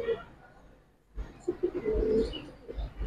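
Silver and bagha pigeons coo nearby in a few short low rolling bursts after a quiet start, with no one talking.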